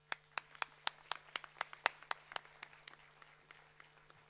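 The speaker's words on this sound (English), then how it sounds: "please give a big round of applause for our great achievement" A steady run of distinct hand claps at a university convocation ceremony, roughly a dozen evenly spaced, fairly close and clear, thinning out toward the end with no talking.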